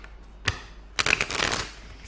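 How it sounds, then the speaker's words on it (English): A deck of tarot cards being shuffled by hand: one brief riffle, then after a short pause a longer, denser run of papery flicking that lasts to the end, close and clear with no voices. "Get these cards shuffled so we can see what the cards have to say about April."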